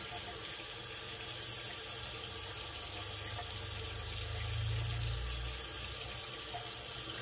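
Water runs steadily from a sink tap while a razor is rinsed under it, a constant close splashing hiss that swells briefly toward the end.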